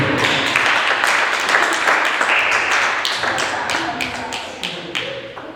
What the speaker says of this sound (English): Let's get another round of applause for Peter.